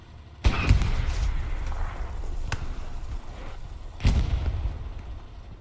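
Explosions in the Hell Let Loose video game: two heavy, close booms a few seconds apart, each followed by a rumbling tail, with lighter thuds in between and no talking.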